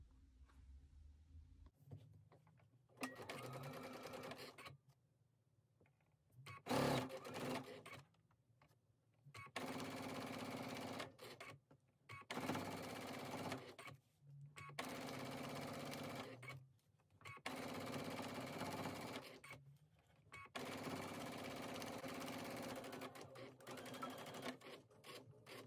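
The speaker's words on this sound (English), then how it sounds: "take it over to the machine and do a 3/8 inch seam allowance all the way down the long edge." A sewing machine stitching a 3/8 inch seam down the long edge of a quilt block, running in several steady bursts of fast whirring separated by short pauses, close and alone.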